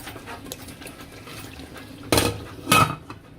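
A metal lid clanks twice onto a cooking pot on the stove, two short bright knocks close together near the end after a quiet, faintly bubbling kitchen background.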